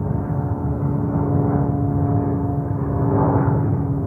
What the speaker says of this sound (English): That's Delta CRJ 900.